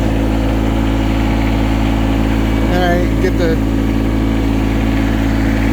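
A tractor engine idles in a steady, loud, low drone while it hoists a broken-down mower onto a trailer, and someone talks briefly over it.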